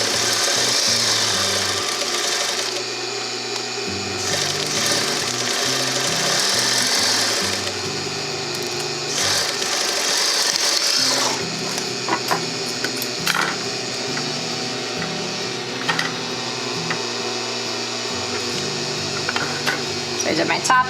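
Sewing machine stitching the bottom edge of a fabric face mask, several bursts of rapid mechanical whirring separated by short pauses, close and loud, with a person talking between and over the runs.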